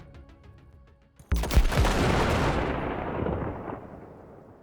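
A sudden loud blast erupts after a quieter stretch of faint sharp cracks, followed by a long rumbling roar that slowly fades.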